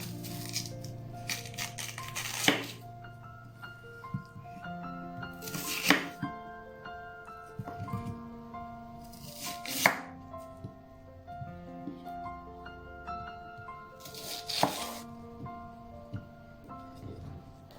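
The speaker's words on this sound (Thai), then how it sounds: "จากนั้นนะคะเราก็มาหั่นมันกันค่ะ" A knife chops through peeled yam on a cutting board, several distinct sharp strikes spaced a few seconds apart against soft background music, close and clear.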